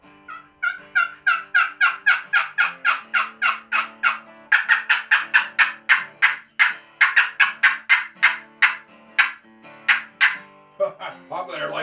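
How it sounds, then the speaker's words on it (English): Wooden turkey box call played in rapid rhythmic series of raspy yelps and clucks, loud and close, dozens of strokes with brief pauses between runs. "Let me get practiced up with the old box call."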